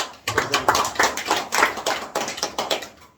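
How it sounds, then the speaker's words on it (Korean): A small group at an agricultural lecture on pepper fertilising claps briefly, a close, uneven burst of individual handclaps with distinct sharp slaps that fades out after about three seconds. "박수 한번 치야 되겠습니다"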